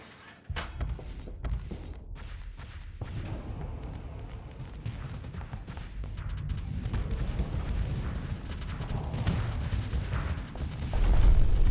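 Starsector space combat with a single small ship launching a heavy missile volley, bringing a dense run of rumbling booms and thuds that thickens and swells toward the end, loud and continuous.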